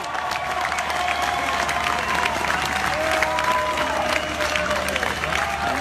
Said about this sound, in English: Give a round, big round of applause for the new generation of ghouls.